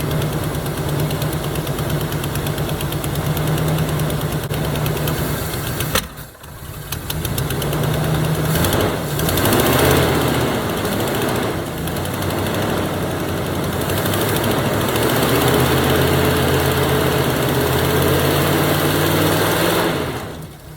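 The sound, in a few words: 1977 Chevy Camaro engine idling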